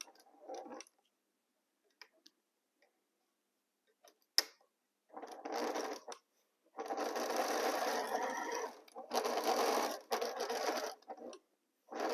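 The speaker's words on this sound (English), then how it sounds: "So let's align here my strips and start sewing." A sewing machine stitches strips of fabric for a quilt block, running in several short bursts and longer runs with brief pauses between them, close and clear, with no talking.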